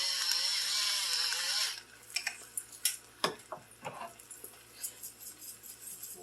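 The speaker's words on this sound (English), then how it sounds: "Let's go back to grinding." A pepper grinder grinds pepper for a snow day breakfast, a dense gritty rasp running close for a couple of seconds, followed by scattered clicks and light knocks of kitchen handling.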